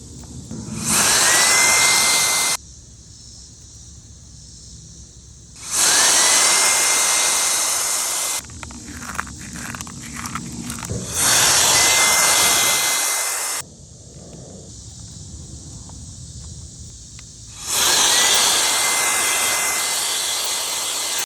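A WOLFBOX MF100 cordless air duster blows in four loud whooshing bursts of a few seconds each, with quieter gaps and handling noise between them, all close to the listener.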